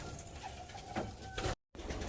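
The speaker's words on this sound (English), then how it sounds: "these are proper racing pigeons" Racing pigeons coo softly in low, throaty murmurs, brief and close, with a short dropout near the end.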